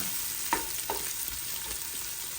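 Onions sizzle steadily in a frying pan, with a few distinct scraping strokes as they are stirred, close and fairly loud with no talking.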